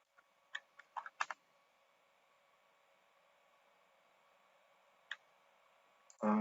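A few quick computer keyboard keystrokes entering values, short clustered clicks early on and another isolated tap later over a quiet hum, with a louder thump at the very end.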